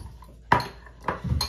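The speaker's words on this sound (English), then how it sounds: "I'm gonna put away all my ingredients and wash anything I need to" Dishes, pots and cutlery clatter in a home kitchen as chocolate chia pudding ingredients are put away and washed up: a few sharp clinks and knocks spaced apart over a low room background.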